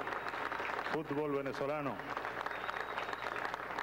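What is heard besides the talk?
applause for the national football team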